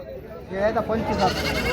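Goats bleat close by amid a busy crowd at a weekly goat market in Maharashtra, the wavering cries overlapping with nearby talk.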